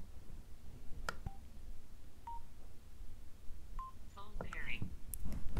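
A Cardo Packtalk Edge motorcycle intercom sounds brief electronic prompt tones for phone pairing: a few short beeps, then a rising chime sequence near the end, fairly faint against low background noise.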